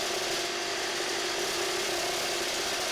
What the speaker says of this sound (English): All right, let's do some cutting. DeWalt on the left, the Makita on the right.